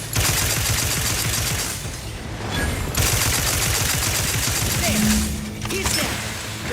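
Gunfire from The Outer Worlds 2 rattles in dense rapid bursts, loud and close, broken by brief pauses, with game sounds and speech mixed in.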